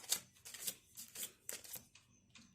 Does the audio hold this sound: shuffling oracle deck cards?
yes